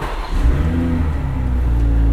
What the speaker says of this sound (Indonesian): kalau misalnya kita nyalain mobil ini